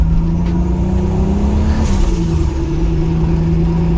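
A Toyota Supra engine, with adjusted fueling, pulls under acceleration as a steady, close mid-pitched drone that rises, dips briefly and settles again, with no talking over it.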